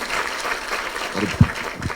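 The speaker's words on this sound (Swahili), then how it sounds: "tumpigie makofi" A crowd applauds at an outdoor meeting at a racecourse in Ngong, Kenya, with steady, broadband clapping that runs for about two seconds, with one louder thump near the end.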